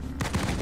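Gunfire from ground troops in a video game comes as a quick, faint burst of rapid shots lasting under a second.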